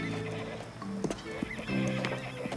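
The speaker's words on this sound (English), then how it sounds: "Oh, wait a minute, Gabe. Not that horse" A horse neighs close by, with a whinny and snorts over the clip-clop of hooves and general stable noise.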